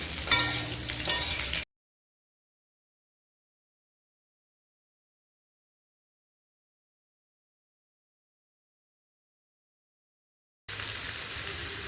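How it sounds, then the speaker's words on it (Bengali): Potatoes fry in oil with a crackling sizzle, heard in two short stretches separated by a long silent gap. "এবারে আলুটা ভাজা ভাজা করা হচ্ছে"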